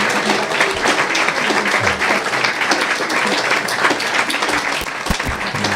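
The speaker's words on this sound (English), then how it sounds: "are we feeling maybe a round of applause or Hari Bols?" A crowd at a devotional gathering honoring Srila Prabhupada breaks into dense, steady applause, loud and close, holding evenly throughout with no pauses.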